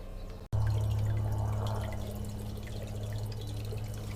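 Water drains out of a bucket, a steady close pouring trickle that starts abruptly after a brief pause, over a low constant hum.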